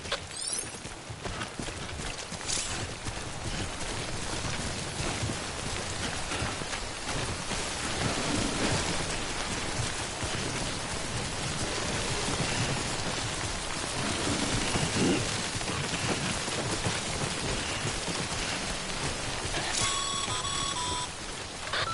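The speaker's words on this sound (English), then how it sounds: "Don't stay out in the rain any longer than you have to." Steady heavy rain, the time-dilating timefall of the video game Death Stranding, pours continuously with rumbles of thunder throughout, loud and close with no talking.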